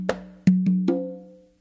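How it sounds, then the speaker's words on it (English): Four hand strikes on a tumba conga drum, two of them ringing open tones, played for a crazy tumbao pattern. The strikes are close and loud, with long sustained low tones that decay slowly. No voice is heard. "after that is those two opens on the tumba."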